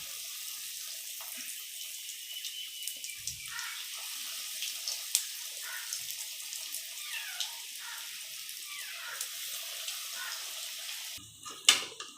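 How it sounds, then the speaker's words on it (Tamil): Filled rolls fry in hot oil with a steady, fairly quiet sizzle and soft crackles, ending in a brief louder clatter. "நம்ம இப்போ ஃபில் பண்ணி வச்சுருக்க அந்த ஃபில்லிங் ரோலை அப்படியே எண்ணெயில் போட்டுடலாம்"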